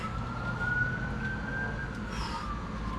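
A faint siren wails steadily in the distance over low traffic rumble, its pitch slowly rising and falling.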